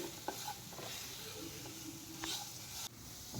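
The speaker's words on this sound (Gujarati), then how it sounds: "વેલણ વગર જ લાપસી બનાવું છું ચમચાની મદદથી। તો જુઓ આવી રીતે આમ હલાવશું આપણે।" A large spoon stirs thick lapsi in a hot pan, scraping and sizzling steadily at close range with a few sharper taps against the metal.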